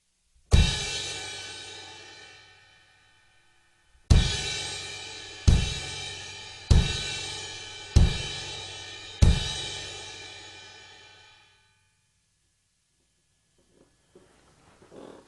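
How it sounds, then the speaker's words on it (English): Five bright crash cymbal hits on a drum kit, one single strike then four in quick succession, each ringing out loudly and decaying, with a faint shuffle afterward. "So if I was to hit the cymbal, it would look and sound like this."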